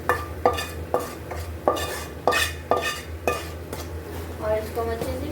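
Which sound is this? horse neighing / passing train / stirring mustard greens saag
stirring mustard greens saag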